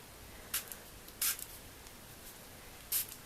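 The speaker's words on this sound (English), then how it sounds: "I'm just going to, look at that, spray a bit of water," A handheld water spritzer mists water onto a birthday card being made with a Bubble Over stamp set, giving three short, close hissing sprays with quiet gaps between them.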